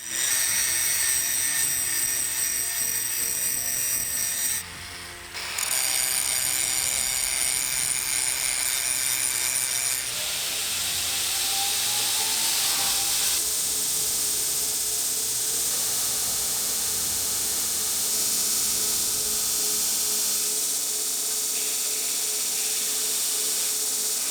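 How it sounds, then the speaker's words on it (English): Steel bar surfaces are cleaned before forge welding a twisted Damascus steel tanto blade, giving a loud, continuous high-pitched whirring grind that breaks off briefly about a fifth of the way in and then runs steadily to the end. "I clean the surfaces of the bars to facilitate forge welding."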